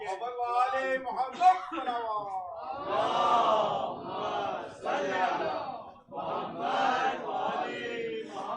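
A crowd at a religious gathering shouts slogans in unison, with loud call-and-response bursts that rise and fall over several seconds.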